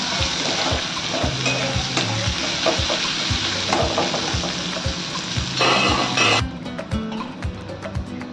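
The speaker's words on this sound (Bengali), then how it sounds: "এবার এটাকে আমি একটু ভালো করে ভেজে নিচ্ছি।" A large onion frying in a pan, loud continuous sizzling with repeated scraping stirs of a utensil, then the sizzle suddenly drops quieter near the end.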